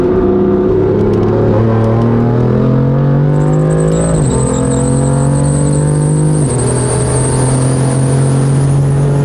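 A stanced Infiniti G37 is driven hard on paddle shifters, its engine loud and close as it revs up through rising pitches with a quick shift dip and a second climb.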